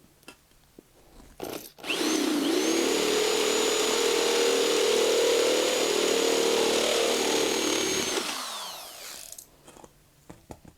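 A step bit drilling a 125B guitar effects pedal enclosure: one short burst, then about six seconds of continuous loud, high-pitched whining grind that winds down, with a few clicks and handling noises on either side.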